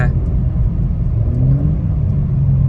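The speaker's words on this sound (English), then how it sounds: "I will now go to a stop, and then I will accelerate a little bit more." A BMW M4 Competition AWD accelerates gently from a stop, giving a steady low engine rumble and road drone heard from inside the car. A faint rising whine runs through the loud, continuous rumble.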